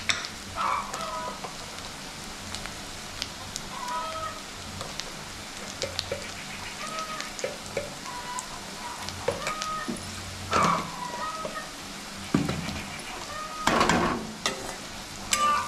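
Onion and snail curry being stirred in a frying pan with salt and turmeric, a steady close sizzle with repeated scraping spoon strokes and a few sharper clatters, no voices.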